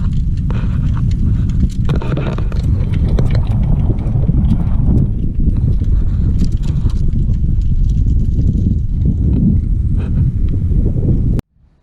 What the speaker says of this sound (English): You can kind of hear how noisy this drivetrain is here.